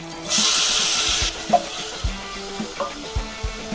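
Tomatoes sizzle and crackle in a hot pan, a loud burst of frying at first, then settling into steady sizzling with occasional stirring clanks.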